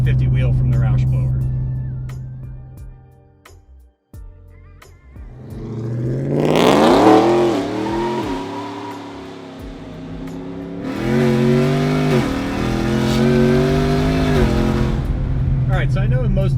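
Supercharged E85-fuelled Roush Nitemare pickup truck with Odin power, its engine idling loud and close, then revving up in two strong sustained pulls with a falling whine between them and a brief dip in the middle.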